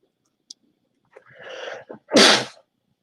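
A single close sneeze bursts out after a rising intake of breath, loud and sharp against near silence, preceded by a tiny click.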